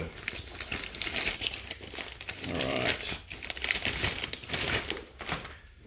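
A card grading package shipped in a cardboard box is cut open at close range, with continuous crinkling, rustling and tearing of packing material and plastic in irregular bursts.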